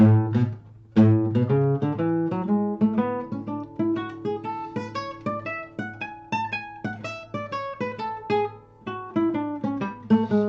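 Plucked guitar notes ring out one after another in a bouncing dotted-eighth to sixteenth rhythm, climbing and falling in a continuous run, played alone.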